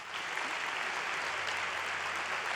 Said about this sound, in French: On peut les applaudir, s'il vous plaît.